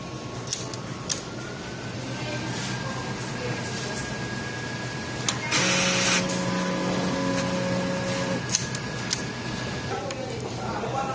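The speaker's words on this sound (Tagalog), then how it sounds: "Head clean." A sublimation printer runs a print head cleaning cycle, giving a steady mechanical whir with a louder motor and pump burst partway through, accompanied by faint clicks and a sustained tonal hum.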